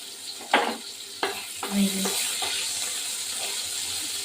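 Prawns sizzle and fry in a pan with turmeric powder, with a few distinct scraping stirs of a spatula over a steady hiss.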